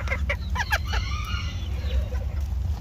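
A young rooster clucks close by in a quick burst of short, rising calls followed by a longer, wavering vocalization, over a steady low background hum.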